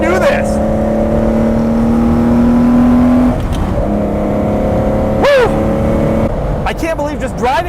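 A Lamborghini Espada cruises at about 60 mph on a Dubai highway, its steady engine drone and road noise running throughout, with a brief rising whine near the end.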